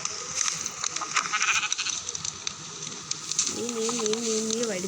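A goat bleats at a house, one sustained wavering call near the end after a stretch of scattered background noise and faint rustling.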